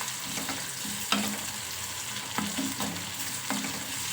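Onion dish sizzles in a hot pan while a utensil stirs and scrapes it in several distinct strokes, close and steady, with no voices.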